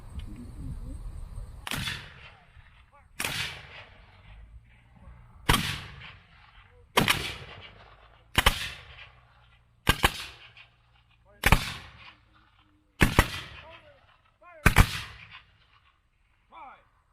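Musket volleys at a Gettysburg battle reenactment: nine loud, sharp reports spaced roughly every second and a half, each followed by a rolling echo, with an officer's shouted commands heard between shots.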